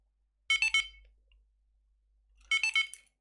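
A Bluetooth item tracker gives two short bursts of rapid, high electronic beeps about two seconds apart, with near silence between them.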